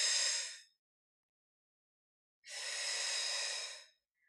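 Two long, forceful exhalations during a Pilates mat leg extension exercise, one at the start and one after a pause of silence, each a steady breathy rush lasting about a second and a half, close and clear.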